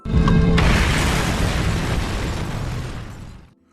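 A film explosion bursts suddenly as a terrorist's house blows up, a loud, deep blast that roars steadily for about three seconds before cutting off.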